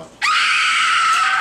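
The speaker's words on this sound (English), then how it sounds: "That's like the third time I've heard screaming, and I know it's screaming." A person screams during a job interview: one loud, sustained, high-pitched scream that bursts in abruptly and holds steady for over a second, with no talking over it.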